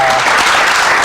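A short, loud burst of audience applause, dense clapping that fills the whole moment without any voices on top.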